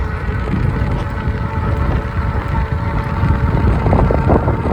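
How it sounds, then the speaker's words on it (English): Wind buffets the microphone during an outdoor ride on an Ecotric e-bike, a steady 12 to 13 mph breeze that makes a loud, continuous low rumble. No voices cut through it. "The wind is blowing. Feels like about a 12 or 13 mile an hour wind."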